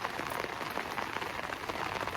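Rain falls on Chesil Beach at Abbotsbury on an overcast winter day. It is a dense, steady patter of drops, close and fairly quiet, with no voices.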